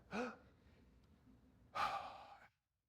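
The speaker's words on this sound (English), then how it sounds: "deep breath" A conference audience at a software design talk draws in a slow collective deep breath and then lets it out in a longer, louder exhale, both soft and close with no talking.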